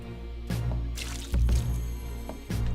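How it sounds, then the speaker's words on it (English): Water splashes and trickles onto a tree in a time-loop puzzle video game, arriving in a few short liquid bursts with quiet gaps between them, heard alone. "Water the tree again."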